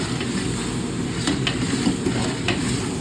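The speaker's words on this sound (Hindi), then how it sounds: "नाश्ता बन रहा है" Breakfast sizzling and being stirred in a pan in a dharamshala kitchen, a steady frying hiss with occasional scraping clinks, close and continuous without talk.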